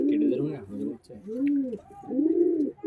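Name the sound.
Pakistani high flying pigeon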